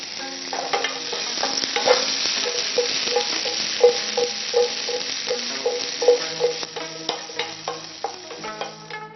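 Asparagus frying in a hot pan with salt and pepper, a steady close sizzle with repeated clinks and scrapes of stirring throughout.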